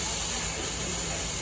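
Onion paste hitting a hot pan while cooking Indian red kidney beans, giving a steady, loud, broad hiss of frying that carries on unbroken throughout.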